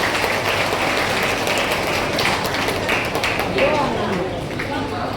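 An audience at a seniors' Diwali celebration held by a Rotary district in Chennai claps warmly and continuously, a dense patter of many hands, with someone talking underneath.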